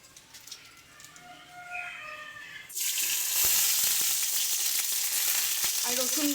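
Bay leaves drop into hot mustard oil and burst into a loud, sudden sizzle that holds steady and bright, after a quieter stretch of faint background sounds, with no talking.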